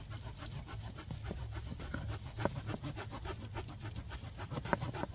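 A Boker Plus Apparo knife's saw blade cuts through wood outdoors in quick, rhythmic rasping strokes, fairly faint and close, with a steady back-and-forth scraping pattern.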